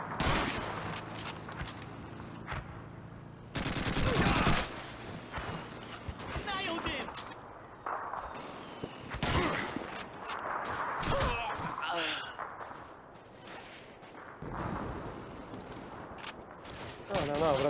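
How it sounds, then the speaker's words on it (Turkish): Gunfire in the video game Call of Duty 2: scattered sharp shots and short bursts of rifle and machine-gun fire, some near and loud, others distant, with a voice now and then and faint footsteps and mechanical clatter between volleys. "Mermiyi sıkarım."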